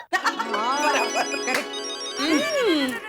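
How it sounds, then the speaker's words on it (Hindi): A melodic phone ringtone rings for an incoming call at home in a Hindi sitcom scene. The tune has rising and falling tones in two short phrases and plays loudly up close, with a brief voice mixed in. "फोन आया।"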